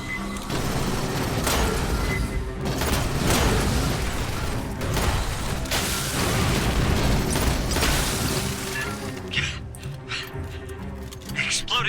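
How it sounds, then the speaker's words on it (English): Xenos blow up in the video game Aliens: Fireteam Elite amid turret and flamethrower fire, with dense booms and bursts running throughout beneath someone talking over the gameplay. "Exploding Xenos."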